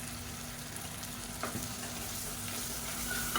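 Onions and tomatoes sautéing in a pan, a steady close sizzle with a few soft stirring scrapes breaking through, no voices.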